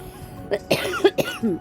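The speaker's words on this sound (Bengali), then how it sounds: "ভয়েস দেওয়ার সময় আমার কাশি চলে এলো" A short burst of several dry coughs in quick succession, close and fairly loud, with brief pauses between them.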